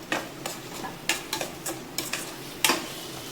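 Onions and spices sauté in a pan for tomato rice, with quick stirring scrapes and taps over a low sizzle, close and fairly quiet.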